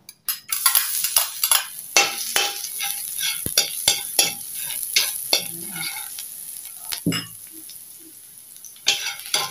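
Garlic sautés in hot cooking oil in a pan, a continuous crackling sizzle broken by frequent scrapes and clinks of a utensil stirring, close up and with no talking.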